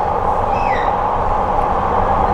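Steady loud rumble inside a moving LRT train carriage, with a faint squeal of wheels rising briefly over the constant din.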